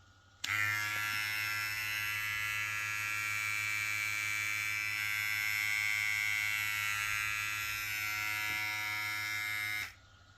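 A VGR V008 hair clipper switched on and running for about nine seconds, a steady close electric buzz with a bright whine, stopping abruptly, with no talking.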